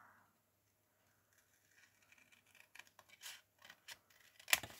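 Scissors snip through folded paper on a diagonal, a few quiet crisp cuts and rustles building up after a near-silent start, ending in one sharper snip.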